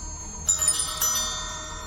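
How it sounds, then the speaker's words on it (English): A clear bell shaken on a mountain at night in an audio drama, two bright high ringing strikes with shimmering overtones that linger and decay. "A beautiful, clear ringing sound flowed over the mountain, filling the night with an enchanting melody."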